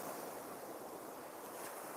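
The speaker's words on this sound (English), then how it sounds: "Listen to that. The roar of the sea." Sea waves roar at Selsey East Beach at night near high water, a continuous faint broadband wash of surf with some wind.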